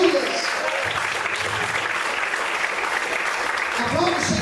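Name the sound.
congregation applauding in church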